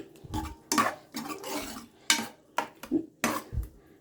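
A ladle mashes hot green gram dal in a pan, producing a rhythmic series of close metallic scrapes and clinks against the pan, repeated steadily with no talk.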